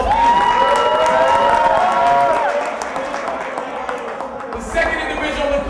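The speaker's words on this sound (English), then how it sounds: "Give Ernie Paniccioli a round of applause, please" An audience at a hip-hop peace event in New Jersey cheers and applauds loudly and steadily, with shouts and whistles rising above the clapping before it fades a little near the end.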